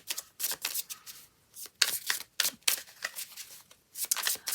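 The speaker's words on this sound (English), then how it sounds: "Going to shuffle this deck up." A Marseille tarot deck is shuffled in quick riffling bursts, several rapid rustling flurries separated by short pauses, close and fairly soft.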